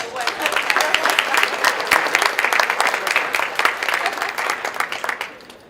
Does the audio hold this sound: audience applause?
yes